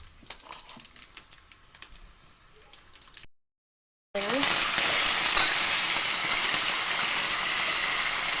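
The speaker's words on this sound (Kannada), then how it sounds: "ನೆಕ್ಸ್ಟ್ ನಾನು ಇದಕ್ಕೆ ಜೀರಿಗೆ, ಸಾಸಿವೆ ಹಾಕತ್ತೇನೆ." Cumin and mustard seeds hit hot oil for tomato bath, bursting into a loud, steady sizzle after a brief silence, preceded by faint kitchen clatter.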